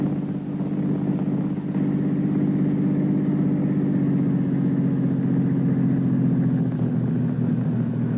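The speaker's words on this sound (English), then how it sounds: "The only safe place to talk is in a moving car." Steady, even engine rumble from inside a moving car, a continuous low drone at a constant level with no talking.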